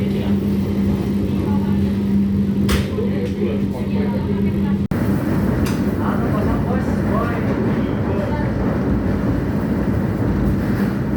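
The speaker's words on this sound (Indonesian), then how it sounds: "Sekarang kereta api Argo Wilisnya sudah diberangkatkan kembali dari stasiun Tugu Yogyakarta" Interior of the Argo Wilis passenger train departing Yogyakarta Tugu station: a steady low rumble and hum fill the carriage throughout, with a brief break midway and faint voices underneath.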